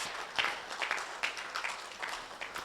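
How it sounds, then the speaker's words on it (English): Sparse applause from a small group, individual claps distinct and irregular, moderately close and fairly soft throughout. "give her a very, very big round of applause"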